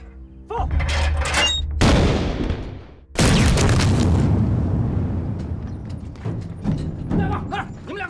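In a war drama battle scene, an enemy bunker is fired on, producing two loud, close booms a little over a second apart, each followed by a long, rumbling decay, with fainter mechanical clatter before and after.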